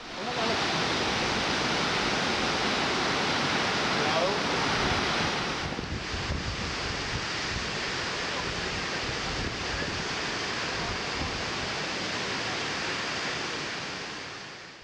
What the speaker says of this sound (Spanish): escuchando el sonido envolvente del agua cayendo en el cañón.